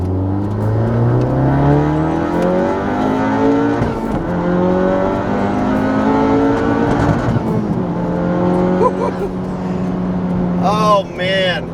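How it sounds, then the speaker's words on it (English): A Honda Civic Type R with a full bolt-on exhaust accelerates hard, its engine note climbing through several gears in steady rising sweeps, loud and close, with a few crackles near the end. "All right, accelerating now."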